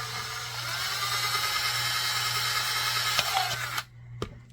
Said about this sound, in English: we're going to drill out these 4 holes at these positions